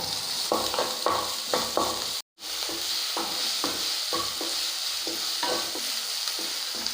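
Onions frying in a pan for chicken liver roast, stirred in a regular rhythm of scraping strokes over a continuous sizzle, close and clear, with one brief cut in the middle.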